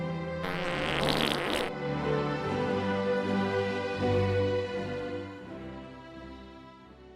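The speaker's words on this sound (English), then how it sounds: "A new expose on farting." Fart sound effect, a raspy noisy burst lasting about a second, followed by a lower sputtering rumble over background music.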